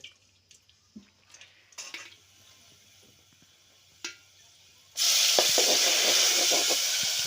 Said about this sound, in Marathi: काळ्या मसाल्याची फोडणी द्यायची